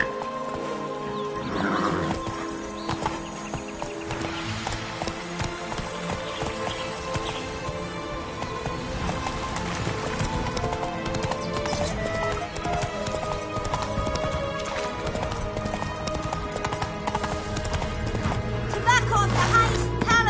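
Roach, a horse in The Witcher 3, runs with steady clip-clop hoofbeats and an occasional whinny, mixed with game music and ambient sound.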